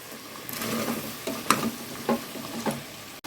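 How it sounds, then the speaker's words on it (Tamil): Goat head curry with masala being stirred in a pan, with a steady sizzle and a few sharp utensil scrapes against the pan. "இப்போ ஒரு தடவை இப்படி கிளறி கொடுத்துக்கலாங்க"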